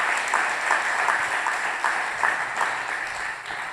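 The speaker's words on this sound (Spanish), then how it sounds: "Denle un aplauso al Señor" Church congregation applauding during a service, steady dense clapping from many hands throughout, moderately loud and slightly fading toward the end, with no talk over it.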